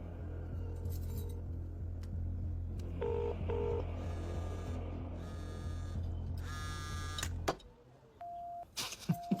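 Phone keypad tones in a car, several short electronic dialing beeps pressed one after another over a low engine hum, followed by a few brief higher tones.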